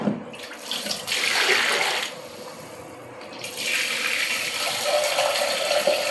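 Raw meat is rinsed under a running kitchen tap, the water gushing and splashing steadily with shifting intensity as the pieces are handled, close and clear with no talking.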